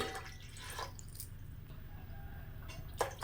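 Soft splashing of water poured into a vessel of soaked jowar rava, quiet and close, with a few brief drips and splashes and no talking.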